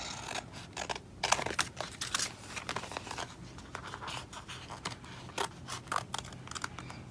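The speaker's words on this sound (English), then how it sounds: "I'm gonna cut this out." Scissors cutting a paper bullet journal page out, close and fairly quiet, with snips and crisp paper rustles coming in an uneven, continuous run and no talking.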